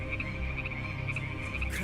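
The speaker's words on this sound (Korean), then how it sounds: "국에도 개구리, 어디에나 개구리 천지였어요." Frogs croak steadily in a dense chorus, a continuous close, loud layer of overlapping calls with no voices.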